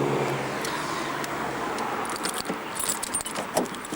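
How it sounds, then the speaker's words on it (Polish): Keys jingle and scrape close by, followed by a few metallic clicks as a key turns in the door lock of a Polonez Caro Plus car, over a low idle rumble. "Zanim jeszcze przekręcę kluczyk"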